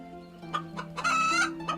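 A rooster crows loudly nearby, its strained call rising and falling among a few clucks from other fowl.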